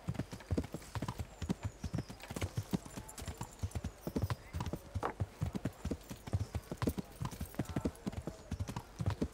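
Horse hooves gallop in a rapid, steady clip-clop rhythm, close and fairly loud, as a rider travels in the medieval game Kingdom Come Deliverance, with faint background ambience beneath.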